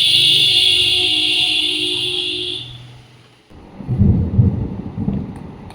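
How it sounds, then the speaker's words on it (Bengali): Deep thunder rumbles loudly and close during a monsoon storm, rolling in midway through after a steady, higher hum, with no voices. "প্রচুর মেঘ ডাকছে।"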